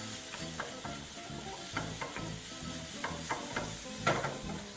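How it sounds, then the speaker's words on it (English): A Spanish rice and prawn mixture stirred in a pan crackles with a steady frying sizzle, broken by repeated soft scraping strokes of the spoon, close and without talk. "Proceed to mix that once more."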